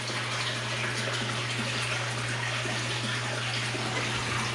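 Water gushes steadily from a 2-inch pipe on a hot tub, a constant loud rushing pour with a low steady hum beneath it and no voices.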